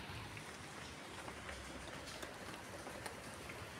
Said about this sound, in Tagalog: ay umuulan dito ngayon sa Oman guys.